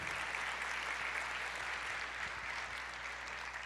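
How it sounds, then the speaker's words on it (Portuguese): A worship congregation gives a steady wash of applause for the Lord, continuous and moderately distant for nearly four seconds. A low hum sits underneath, and no one speaks. "Pode aplaudir o Senhor, porque Ele é grande em misericórdia."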